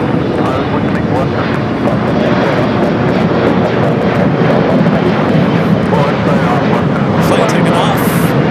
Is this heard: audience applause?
no